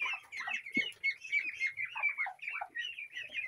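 Chickens in a poultry yard cluck and chatter continuously, a busy overlapping flock of short nearby calls with one brief low thump partway through, and no talking.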